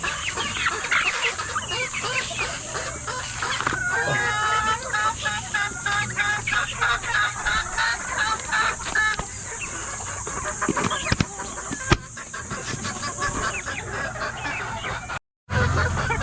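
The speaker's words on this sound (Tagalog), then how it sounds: "Ito naman mga tropa yung mga napili natin na mga brood hen, mga pullet para sa next na breeding season." Brood hens and pullets kept for the next breeding season cluck steadily at close range, many birds overlapping in a dense, busy chorus that continues for the whole stretch.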